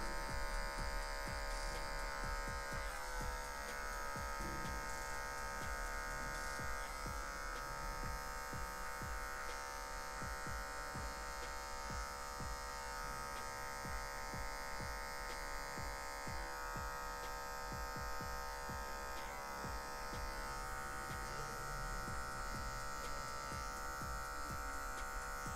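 Electric hair clipper buzzing through a low fade haircut, a continuous close motor hum with small shifts in pitch as the blade moves, no voices over it.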